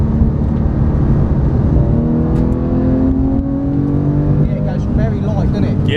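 A car engine revs up under acceleration, a loud close drone whose pitch climbs steadily while people talk over it.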